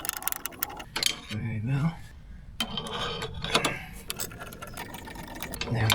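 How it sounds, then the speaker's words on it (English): A ratchet spanner tightens the air suspension compressor on a Land Rover Discovery, giving bursts of rapid mechanical clicking between pauses, close by, while someone talks briefly. "Ratchety spanner."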